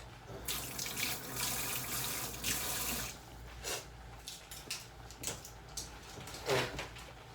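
A kitchen tap runs while hands are washed under it, splashing water in uneven bursts with brief pauses and a few louder gushes, close and with no talking.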